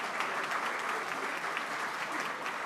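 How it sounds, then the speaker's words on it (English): A room of club members at a Rotary meeting applauds visiting guests with an even, steady patter of many hands, moderately soft and continuous throughout. "Would you give all of our guests and visiting Rotarians a big applause?"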